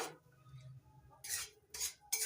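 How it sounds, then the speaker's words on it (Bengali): Dry-roasted makhana (fox nuts) are stirred in a pan, producing a few bursts of dry scraping and rattling, separated by short quiet gaps, close and soft. "নাড়াচাড়া করে ভালো করে মিশিয়ে নিচ্ছি"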